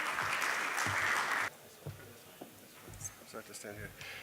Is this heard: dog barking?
no